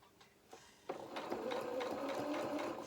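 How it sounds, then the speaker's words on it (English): A sewing machine stitches along the edge of felt. A few soft clicks come first, then a steady, close, fairly quiet whirring run with a rapid needle rhythm. "I'm just following the edge of my presser foot against the edge of the felt."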